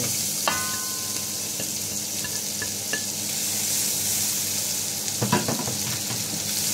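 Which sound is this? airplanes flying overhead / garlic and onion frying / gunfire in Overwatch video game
garlic and onion frying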